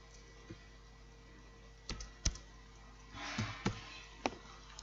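Light, irregular key clicks from a computer keyboard, a handful of sharp taps scattered over a few seconds with a short busier burst near the end, quiet and close against a steady background hum.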